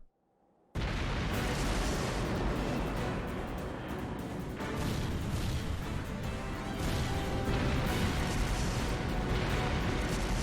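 Unmanned tanks opening fire in the game Trails into Reverie, a sudden onset of heavy continuous rumbling barrage and blasts, loud and dense, sustained throughout.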